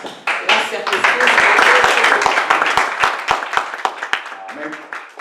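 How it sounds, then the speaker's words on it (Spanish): A church congregation claps loudly and steadily for about five seconds, many hands together in a dense, sustained burst with a few sharp individual claps standing out as it fades. "Denle un aplauso a Jesús"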